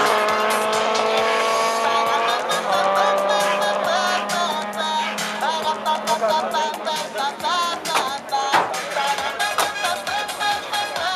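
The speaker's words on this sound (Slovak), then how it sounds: "Jednoznačne R32 vyrazila dopredu." An R32 race car launches at an airfield drag race event, its engine roaring loud and continuous throughout, with a dense, sustained drone and shifting pitch.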